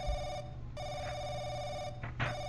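A telephone ringing inside the horror video game The Crooked Man, a steady electronic trill with a brief pause before it resumes, under low background noise, with a short voice sound near the end.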